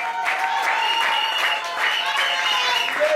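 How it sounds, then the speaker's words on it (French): A church congregation claps together in dense, steady applause lasting a few seconds, close and fairly loud, with voices mixed in. "Acclamons pour le Seigneur."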